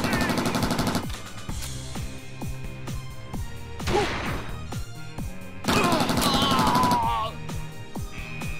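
Machine gun fire in the Planet Alcatraz game, rapid repeated shots in bursts mixed with impacts and crashes, loud and close, alongside game music and effects.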